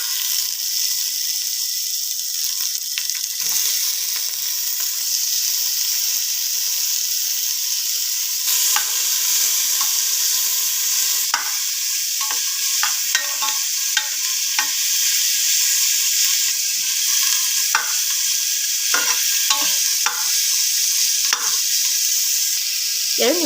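Tomato and coriander fry with spices (cloves, cinnamon, cardamom, turmeric) in a pan, making a steady close sizzle with repeated scraping clicks of a stirring spoon.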